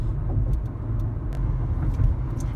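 A car being driven on the road. The low engine and tyre rumble stays steady and moderately loud throughout, with small clicks and rattles over it.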